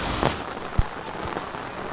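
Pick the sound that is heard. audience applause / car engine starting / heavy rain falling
heavy rain falling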